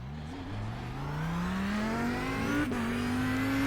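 An engine in the GRID racing game screams near its redline, the pitch climbing steadily through gears with a brief shift dip, loud and continuous with no talking over it.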